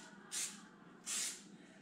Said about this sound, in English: you're gonna just take a cooking spray and you're going to spray the chicken